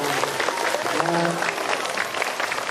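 Children clap together to thank a visiting author at a school talk, a burst of applause mixed with voices and some brief low-pitched vocal sounds.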